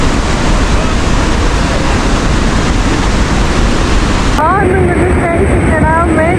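Niagara Falls roars as a loud, steady, broadband rush of falling water heard close by, and a person's voice comes in over it near the end.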